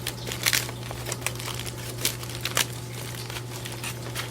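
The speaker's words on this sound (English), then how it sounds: "we're basically just taking out the foil here" Aluminium foil is peeled and crinkled off baked potatoes beside a Slow N Sear kettle grill, a close run of irregular crackling rustles over a steady low hum.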